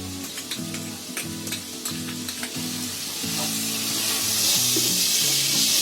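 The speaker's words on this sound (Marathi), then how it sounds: "मी ढवळतच राहिली आहे, कारण का खाली मसाला लागू नये म्हणून सारखं ढवळत राहायचं" Masala with tomato sauce is stirred in a pan on a gas stove at full flame, with steady close sizzling and frying hiss plus repeated scraping strokes of the spoon, alone without voices.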